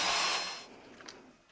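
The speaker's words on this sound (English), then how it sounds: "So I'm going to just drill through." A power drill bores through a hole while lubricating printer rails, a loud whirring burst that fades out after about half a second, leaving faint clicks and quiet.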